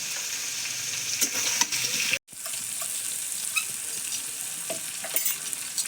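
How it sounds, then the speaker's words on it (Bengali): Boiled jackfruit and potato pieces frying with turmeric powder in a pan, making a close, continuous crackling sizzle with scraping stirs and a brief drop-out midway. "হলুদ গুঁড়ো দিয়ে এঁচোড় আলুটা একটু ভাজা ভাজা করে নেবো।"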